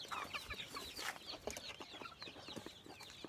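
Chicks about three to four months old cluck and chirp in a busy, overlapping chorus, steady and fairly close throughout with no talking.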